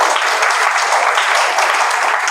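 Students in a classroom clap for a boy in a steady, loud burst of applause that runs the whole length, with no talk over it.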